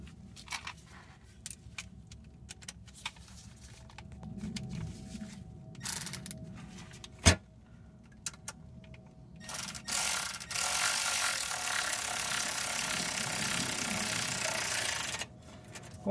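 Ratchet clicking while tightening the transmission pan bolts on a GM 4T40E automatic transmission, quiet bursts of rapid pawl clicks near the microphone, with a faster, louder run of clicking toward the end.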